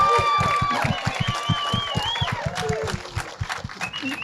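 An audience applauds and cheers for an actress at an interview event, with steady rhythmic clapping, high whistles and shouting voices filling the whole stretch.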